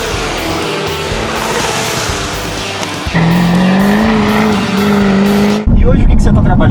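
Jaguar Project 7 sports car power-sliding, with a loud, close engine roar and high tire squeal that climbs in pitch midway and runs on to the end.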